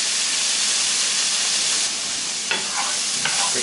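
Worcestershire sauce sizzles and hisses loudly in a hot pan, a dense steady frying crackle with a couple of sharper bursts of spatter and stirring near the end, with no talking.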